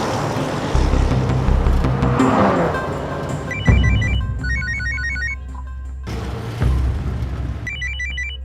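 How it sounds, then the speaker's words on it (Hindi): A phone rings in repeated electronic trilling bursts over background traffic noise and engine rumble, the ringing pattern recurring several times. "फोन।"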